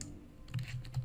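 A handful of soft keystrokes on a computer keyboard, close and quiet, in a short burst with no speech.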